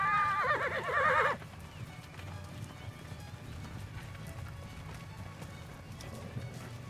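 A horse gives a loud, wavering whinny up close for about a second, then a herd of horses moves through an outdoor setting with soft, scattered hoof thuds and a low steady rumble.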